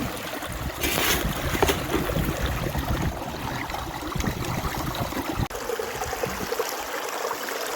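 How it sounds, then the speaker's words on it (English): Water rushes steadily through a gold sluice processing Scottish conglomerate, a close, continuous flowing and gurgling with small splashes and no talking. "Sluice is running really nicely, nice laminar flow across the top surfaces."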